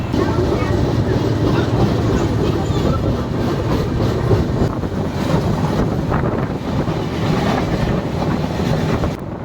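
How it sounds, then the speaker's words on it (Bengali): Tamralipta Express from Howrah to Digha picking up speed after leaving Uluberia, a loud, steady rumble and rattle of the carriage with wind noise roaring throughout. "1 মিনিট হল্ট করার পর ছেড়ে দিল আমাদের ট্রেন"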